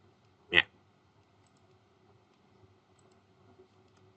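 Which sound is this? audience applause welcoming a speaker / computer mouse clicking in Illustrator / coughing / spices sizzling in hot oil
computer mouse clicking in Illustrator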